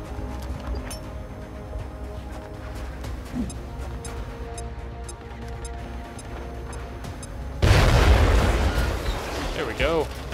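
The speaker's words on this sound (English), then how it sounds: "I think I'm gonna throw the grenade." A grenade explodes in a turn-based alien combat video game, a sudden loud, booming blast that breaks over a low, steady background hum and then rumbles as it fades.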